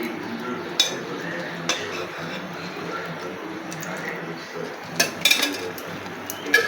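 A kadai pan set down on a stove and oil added while cooking gongura dal: scattered metallic clinks and knocks over a faint kitchen hum, with no talking.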